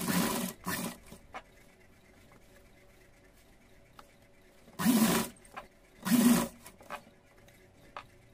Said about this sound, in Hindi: ये किनारे किनारे सिलाई लगा करके पूरा घेरा कंप्लीट करेंगे